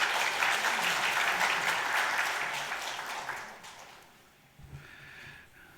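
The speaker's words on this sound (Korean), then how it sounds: "우리 박수로 맞이하겠습니다" A church congregation applauds together, full and close, the clapping gradually thinning and fading toward the end, with a faint breath or sniff afterward.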